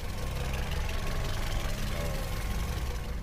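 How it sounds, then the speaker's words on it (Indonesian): Toyota Vios car engine idling at close range, a steady low rumble with even vibration that holds without pause. "Ini mesinnya dalam keadaan nyala dan suaranya juga halus nih"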